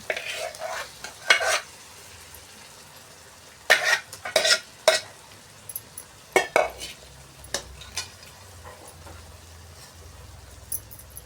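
Blended vegetable paste with pea paste being stirred in a hot pan for Jain pav bhaji, with intermittent scraping strokes and a low sizzle underneath, close by and with no talking.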